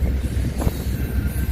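Union Pacific freight train pulled by five locomotives heading north on a split double-track line through a historic Texas railroad town, a steady close low rumble of rolling cars with a brief louder clank partway, no talking.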